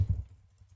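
A few soft key taps on a computer keyboard, a small cluster of clicks at the start and then fainter scattered taps, close and quiet, with no talk.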